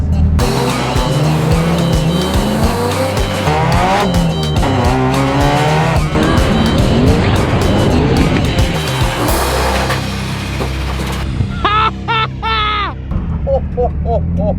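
A race car skids with loud squealing tires during a near crash, its engine roaring throughout and its pitch sweeping up and down, very close and intense, with brief voices.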